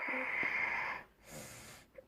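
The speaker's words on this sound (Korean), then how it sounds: "아 진짜 뭐왜 이렇게 코골이가 커?" Loud snoring in an animated Korean holiday episode, a nasal rasping inhale with wheezy tone followed by a pause and a softer second breath, close up and alone.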